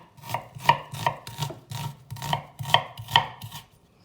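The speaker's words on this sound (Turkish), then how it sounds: "Şimdi önce soğanlarımı doğramayla başlıyorum." Onions are chopped with a knife on a cutting board in a home kitchen, a steady run of about ten crisp, evenly spaced thuds heard up close with no talking.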